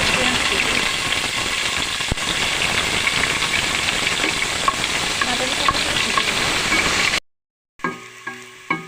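Oil sizzles and fries in a pan on a stove for chola boot bhaji (chickpeas): a loud, steady crackling hiss for about seven seconds, then it cuts off abruptly, leaving a few faint clicks.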